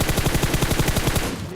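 An M4 rifle fires a rapid, continuous automatic burst in the PUBG Mobile video game, loud and close, each shot in quick succession before it cuts off.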